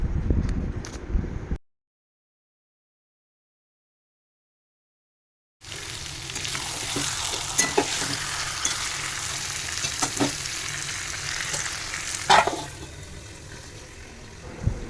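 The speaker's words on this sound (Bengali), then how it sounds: "আমি চিকেনটাকে ঢেকে ঢেকে রান্না করে নেব" Chicken with garlic frying in a pan, a steady close sizzle with occasional stirring clatters, preceded by a short burst of running water and several seconds of silence.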